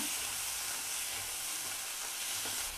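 About two spoons of oil sizzle in a pan while turkey berry chutney is made, giving a steady close frying hiss throughout with no voices.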